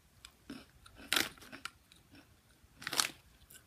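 Peanut butter snack crunched and chewed up close, a few crisp bites followed by softer, irregular chewing crackles, quiet with no talk.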